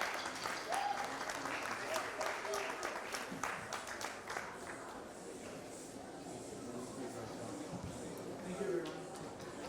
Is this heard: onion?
no